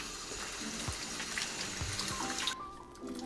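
Tap water runs steadily to dampen a new, clean towel, a close continuous splashing flow that cuts off near the end, leaving a brief quiet tail.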